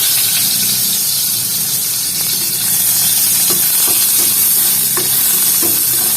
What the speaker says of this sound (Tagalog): So, gisa natin tong kamatis lahat.